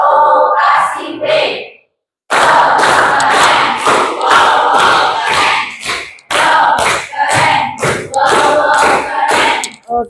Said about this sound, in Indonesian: Oke, sekali lagi untuk tepuk WOW.